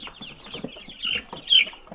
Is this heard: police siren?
no